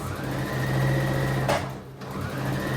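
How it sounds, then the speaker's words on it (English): A sewing machine runs a straight stitch along the outside edge of a zigzag seam on pants fabric, a steady close mechanical whir that pauses briefly partway through, then starts again. "I want to do a straight stitch on the other side of the zigzag, on the outside of the zigzag."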